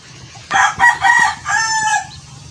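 A rooster crows loudly and close by, a single drawn-out call in several bursts rising and falling, with faint background noise, on a poultry farm.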